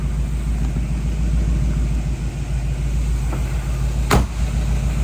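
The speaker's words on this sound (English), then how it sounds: "Great little burble coming out of the back." Low, steady idle rumble from the tailpipes of a 1957 Chevy Corvette, a continuous close burble with one sharp click partway through, no talking.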